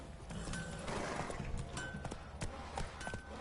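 Roach the horse gallops in The Witcher 3, hoofbeats running steadily under a dense, noisy game soundscape, with a brief whinny mixed into the fairly loud, continuous bed.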